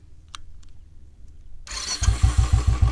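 A Royal Enfield Bullet motorcycle with an aftermarket exhaust fires up after a quiet pause with a few faint clicks, catching into a loud, close, rhythmic thumping idle.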